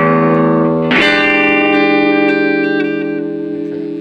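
An electric guitar chord strummed through a Univox U65RN solid-state amplifier, a loud distorted chord struck once with a sharp attack, then ringing and slowly decaying with reverb-like sustain.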